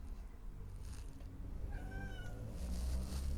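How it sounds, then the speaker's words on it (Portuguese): A cat gives a single drawn-out meow partway through, fairly faint against a steady low background hum. "O gato tá com muitos ciúmes. Ele está aqui, fica quietinho."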